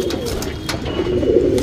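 Pigeons in a racing pigeon loft coo steadily in low, throaty rolls, several birds overlapping in a continuous murmur that swells slightly toward the end.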